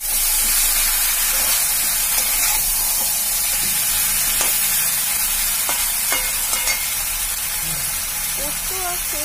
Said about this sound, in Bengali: ভালো করে এটাকে নাড়াচাড়া করবো। এটা ভালো করে মিক্স করে নেব।